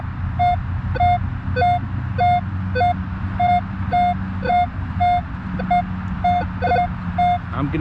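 A Minelab Equinox metal detector in 5-tone mode gives a series of short, regular electronic beeps at a steady rhythm over a low background rumble, loud and close.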